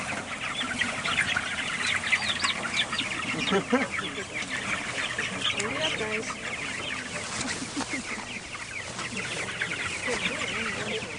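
Young poultry birds cluck and chatter on the ground near a feeder, a dense, lively flock sounding close and continuous, with people talking faintly in the background.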